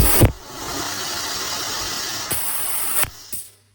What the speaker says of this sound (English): Let us look at a real level 2 piercing example